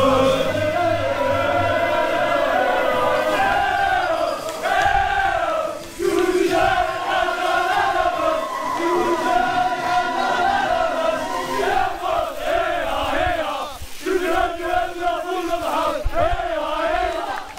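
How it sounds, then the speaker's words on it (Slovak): A dense crowd of men chants loudly in unison at a Mozabite wedding in the Algerian desert, close and continuous, with rhythmic rising and falling voiced phrases repeating across the whole stretch. "ocitám sa uprostred davu hlasno skandujúcich chlapov"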